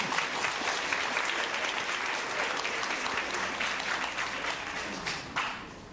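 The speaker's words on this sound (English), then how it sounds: "let's give her a clap" Steady applause from an audience, dense clapping holding at an even level for several seconds before starting to thin out.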